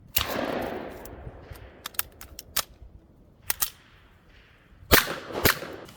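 A magazine driven into a VP70 pistol against its stiff heel magazine release, sharp metallic clicks and clacks, close and crisp, several separate snaps spaced across a few seconds with a firm double click near the end.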